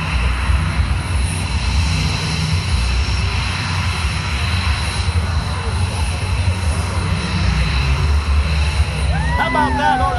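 Aerobatic airplane engine droning steadily at an Orlando air show while the plane tumbles end over end, a loud continuous roar with an announcer talking over it.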